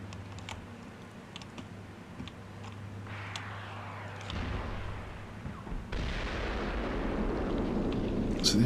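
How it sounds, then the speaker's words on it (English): Artillery fire in the military strategy game Armored Brigade 2, Scandinavia setting: a steady mid-level rumble of distant booms and crackling impacts that swells louder in the second half, with no talking. "So they're firing back up here."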